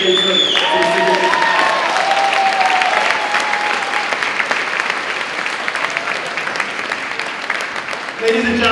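An audience at a Hispanic Heritage event gives loud, sustained applause for a long-serving city firefighter. A voice speaks briefly at the start, then the clapping and some cheering carry on, tapering slightly near the end.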